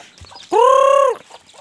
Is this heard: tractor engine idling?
no